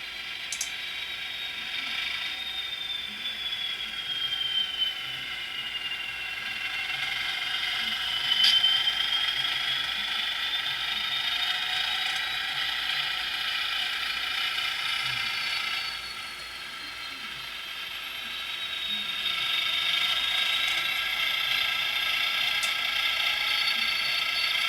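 Turnout servo motors on a model railroad layout run with a steady, faint mechanical whir and ratcheting gear noise, rising and falling slowly in pitch over about twenty-five seconds with no talk.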